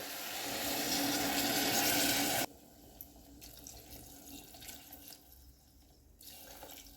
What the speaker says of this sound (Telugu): మనం దీంట్లోకి అయితే వాటర్ వేసుకోవాలి